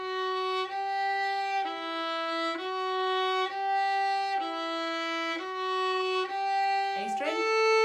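Solo violin plays a Grade 2 exercise line from a tune, a steady run of bowed sustained notes changing pitch in an even rhythm, close and clear with no talking.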